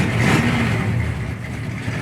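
A 1976 Pontiac Trans Am with electric exhaust cutouts open gives a loud, deep engine rumble with a brief rev at the start, settling into a throaty idle close by.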